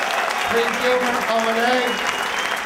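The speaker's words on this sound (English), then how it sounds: "Give yourself an applause." A comedy roast audience at a 2004 club show claps and cheers in a full, sustained round of applause while someone speaks loudly over it.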